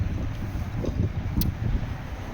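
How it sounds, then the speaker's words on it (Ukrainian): Steady, heavy wind noise buffets the microphone throughout in snowless winter Norway, a constant roaring rush with no clear breaks. "Вітер дуже сильний сьогодні, не знаю чому."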